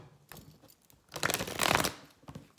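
A deck of tarot-style playing cards is shuffled close to the microphone, a soft riffling flutter that builds into a dense burst in the middle before tapering into a few light card flicks.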